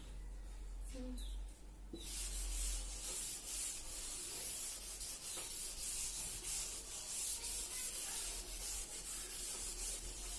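Steady, scratchy rubbing as handwritten work is wiped off a classroom board, starting abruptly after a brief pause and continuing close and fairly loud for several seconds with only small fluctuations.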